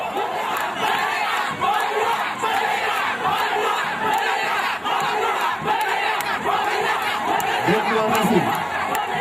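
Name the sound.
crowd applauding and cheering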